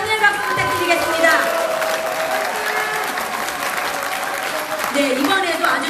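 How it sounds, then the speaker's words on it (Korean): A seated audience at a Korean lawyers' presentation and rally claps steadily in sustained, fairly loud applause that carries on for several seconds with no break. "다시 한번 격려의 박수 부탁드리겠습니다."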